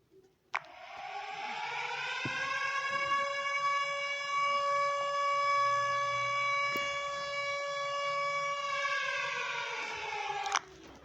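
A nuclear alarm siren from an Android phone app sounds as a steady, loud electronic wail with a rich stack of harmonics, holding one pitch for about ten seconds and then cutting off abruptly.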